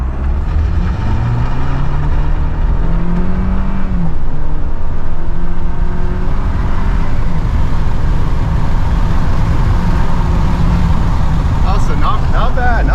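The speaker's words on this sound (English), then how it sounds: "You can definitely hear the turbo, but it's definitely no rocket." Inside the cab of a 2023 Chevrolet Silverado pickup with a 2.7-litre turbo engine, a loud, steady engine drone rises in pitch through a gear change as the truck accelerates hard from 0 to 60, with constant road and wind roar.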